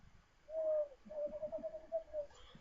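A person imitates an owl hoot with the voice, giving a soft warbling coo that begins with one long note and moves into a series of quavering pulses. It sounds close and fairly quiet.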